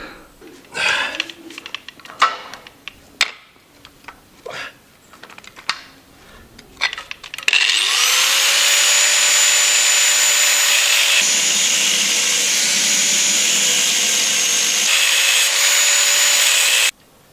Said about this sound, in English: we're going to get the grinder out, we'll get that cut and get 2 halves out